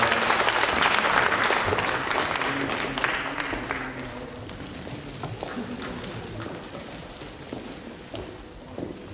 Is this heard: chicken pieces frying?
no